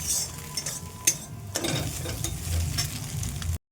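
An egg frying in hot oil in a wok, a steady close sizzle broken by a few sharp scraping stirs and light utensil clinks, with no talk.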